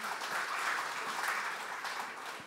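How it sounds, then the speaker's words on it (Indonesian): A church congregation applauds at a service, a short, even burst of many hands clapping that holds steady at moderate loudness. "Mari kita beri tepuk tangan ya."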